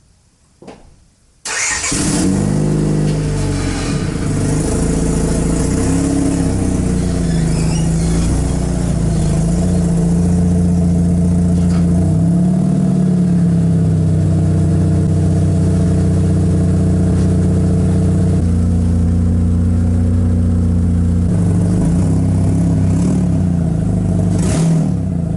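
A 1996 Honda Odyssey RA1 starts up in a home garage after an oil cooler O-ring change, then idles loudly and steadily with a deep mechanical hum and a few brief revs near the end.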